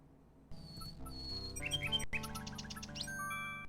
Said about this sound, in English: The little bird makes a delivery.